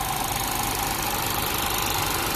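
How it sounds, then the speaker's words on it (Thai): A Lexus IS250 car engine idles steadily with a continuous, even hum and faint mechanical knocking, close by and alone. "ตอนนี้กำลังเดินเบาเครื่องอยู่นะครับ"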